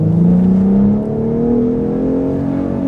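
A Gen 3 Ford Raptor's valved exhaust in Baja mode revs up with a rising engine note, building loud and close, then dipping briefly before climbing again over about three seconds, with no talking.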